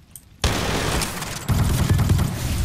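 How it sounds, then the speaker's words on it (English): A flamethrower pistol firing in modded Apex Legends, a sudden onset into continuous roaring, crackling discharge that swells louder midway and keeps going without pause. "Next we've got the flamethrower pistol."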